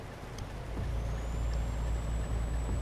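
Truck engine brake on a heavy 75-ton load in Euro Truck Simulator 2, a deep low rumbling drone that swells and holds steady, with a faint rising high whine above it and no voices.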